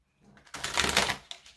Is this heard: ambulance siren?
no